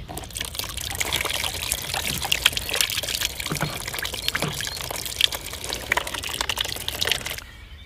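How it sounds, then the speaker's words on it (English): Water is poured out of a cooking pan during an overlanding camp trip with a Jeep Cherokee XJ. A steady splashing trickle runs for about eight seconds, close by and moderately loud. "Let me pour the water out of that pan"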